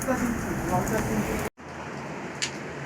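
Heavy storm rain drives in through a clinic doorway, a loud, steady hiss of downpour that becomes suddenly muffled and quieter midway, as if a door has closed, with faint noises afterward.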